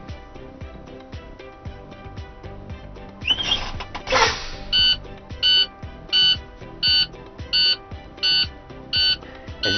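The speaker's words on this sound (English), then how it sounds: "As you can see, our alarm turned on and our light." A truck's low air pressure warning alarm beeps steadily at a regular pace, one short tone roughly every half second, over a low engine idle.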